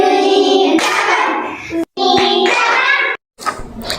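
A group of classroom children perform a rhythmic clapping routine, with bursts of claps and chanting voices, broken by two short silent gaps.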